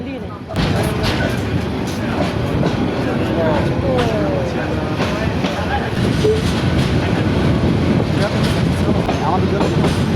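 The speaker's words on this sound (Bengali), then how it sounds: "দিনাজপুর থেকে ট্রেনটি ছেড়ে দিল আবার সান্তাহারের উদ্দেশ্য।" Local train pulling out of Dinajpur toward Santahar, heard from aboard as a loud continuous rumble of wheels on rails with clattering joints and occasional squeals, steady throughout.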